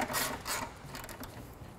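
A nut being tightened onto a plastic part, heard as a few short close clicking and rubbing bursts of a ratchet action at moderate volume with no talk.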